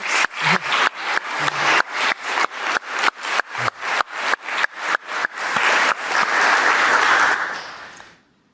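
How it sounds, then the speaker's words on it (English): An audience claps in thanks for Alex at a physics collaboration event, a steady burst of applause that rises to a dense, even wash before fading out quickly, with no talking over it. "a round of applause to Alex"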